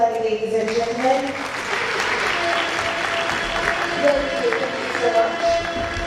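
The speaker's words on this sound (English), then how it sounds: "Let's give him another warm round of applause." Sustained applause from a conference audience at an entrepreneurs' business event, a dense steady wash of clapping lasting several seconds, with a voice carrying over it.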